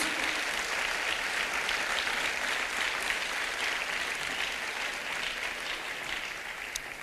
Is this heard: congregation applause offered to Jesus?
yes